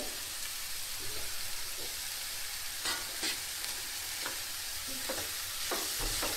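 Stir-frying vegetables with cumin powder, chili powder and salt in a pan; a continuous close sizzle broken by scraping and stirring clatter at irregular intervals.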